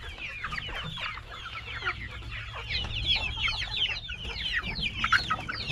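Free-range chickens out on the range, a large flock clucking and squawking together in a busy, continuous chorus close by, with no talking.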